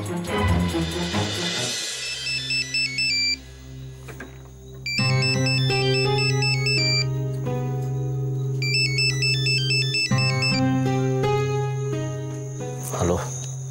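A phone ringtone plays a repeating electronic melody in short bursts with pauses between them, loud and close, ringing for an incoming call at night against a steady low background hum.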